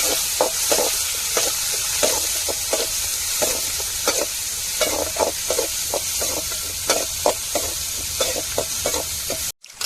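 Onion, tomato and curry leaves sizzling loudly in hot tempering oil, a dense continuous crackle broken by frequent stirring clicks and scrapes, close and alone until an abrupt cut at the end.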